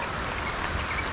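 Steady rain falling over a vegetable garden of eggplant and okra after two days of downpour, an even dense hiss of drops throughout with no pauses.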